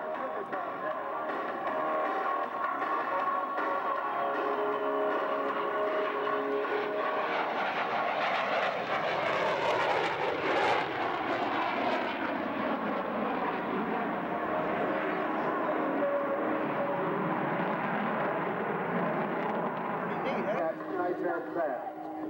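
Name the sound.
F-14 Tomcat jet engines roaring at an airshow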